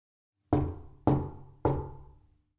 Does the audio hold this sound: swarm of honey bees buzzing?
no